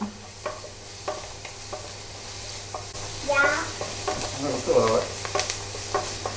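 Onions, ginger and garlic sauté in a pan for a Kerala beef curry, a low steady sizzle broken by soft scraping stirs, growing a little busier toward the end with no talking.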